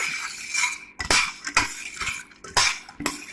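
A metal utensil stirs dry pasta soaking in freshly poured boiling water, making a rhythmic series of about five sharp clinks and scrapes against the pot, close and clear, with no talking.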